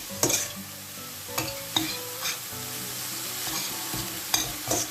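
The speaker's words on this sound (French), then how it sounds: "Je mélange tout" A spoon stirring a bourek filling mixture with parsley in a bowl, a few scraping clinks and taps scattered over a steady background hiss, close and fairly quiet, with no talking.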